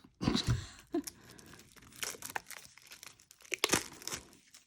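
Packaging for a Bloom planner card deck being opened by hand: close crinkling, tearing and crunching of wrapping in irregular bursts, with short quiet gaps between handfuls.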